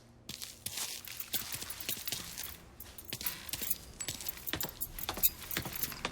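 Small metal keys jingling and rattling in a Mafia III cutscene, close and repeated light clinks mixed with shuffling movement and soft footsteps.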